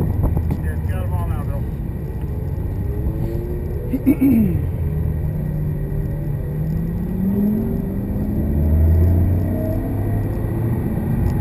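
An Audi R8 runs on a race track at Autobahn Country Club, its engine a steady low rumble with pitch sweeps rising as it accelerates. Wind buffets throughout, and people talk inside the car.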